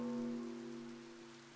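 Soft rainfall ambience from the Japanese village life sim Spirittea, a faint continuous hiss beneath steady sustained musical tones, gradually fading over a second and a half.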